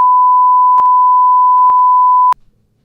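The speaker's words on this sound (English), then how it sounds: "We can beep that out." A loud, steady censor beep holds one pure tone for over two seconds, covering a spoken name, with faint clicks inside it before it cuts off abruptly.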